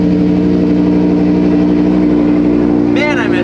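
A Lamborghini Huracán runs with a steady, loud engine drone from start to finish, and a short burst of higher, shifting tone comes near the end.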